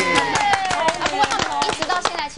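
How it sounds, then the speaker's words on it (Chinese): An audience applauding, with quick scattered claps running under lively overlapping talk. "哇，掌声鼓励鼓励"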